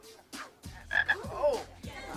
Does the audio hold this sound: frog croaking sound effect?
yes